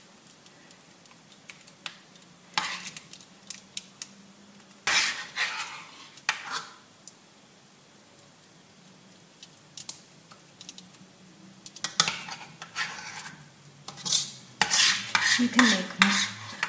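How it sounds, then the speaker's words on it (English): Metal spoon scraping and clinking against a bowl while cream is spooned onto layers of puff pastry for mille-feuille, scattered taps and scrapes in irregular bursts with quiet pauses between, and a brief voice near the end. "I'm going to take it, and I'm going to spoon it onto my layers."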